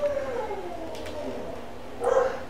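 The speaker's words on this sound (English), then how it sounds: "I wish to get that dog shut up." A dog howls in a drawn-out, wavering tone that slides down, then gives a shorter, louder yelp-like howl near the end, fairly close in an indoor room without talk.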